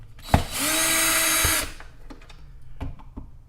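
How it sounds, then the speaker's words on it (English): A power drill in ratchet (clutch) mode whirs steadily for about a second while driving screws into a plastic DeLonghi Prestigio coffee machine, followed by a few sharp clicks and knocks from handling. "I have my drill set on 1, so it's a ratchet drill."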